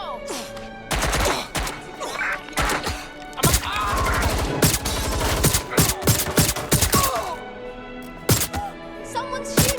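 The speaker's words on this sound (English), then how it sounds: "Someone's shooting!" Gunfire in the video game Watch Dogs Legion: sharp, loud bursts of rapid shots crackle in clusters, with single cracks and thuds between them. No one speaks.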